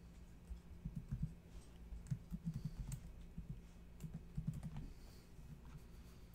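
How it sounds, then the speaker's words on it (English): Keys clatter on a computer keyboard in short bursts of quick, soft clicks, faint and close, with pauses between flurries. "I'm going to just type something out here"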